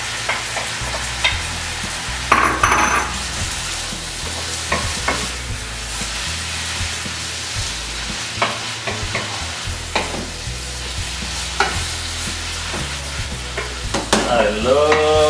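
Drained rice noodles stir-fried with pad thai sauce in a hot pan, a steady sizzle broken by scraping and clanking of a utensil as the noodles are tossed, close up, without talk.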